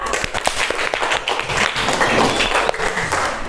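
Students clap for a speaker named Kartika at the close of a lesson; scattered, uneven hand claps with a few sharp individual slaps, fairly close and loud, with no talk.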